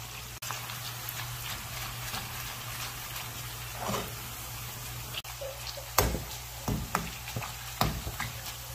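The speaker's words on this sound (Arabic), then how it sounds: "قلي البصل يأخذ وقت" Onions for Adeni zurbian fry in a pan with a steady, quiet sizzle and crackle. Faint stirring scrapes and clinks break through now and then.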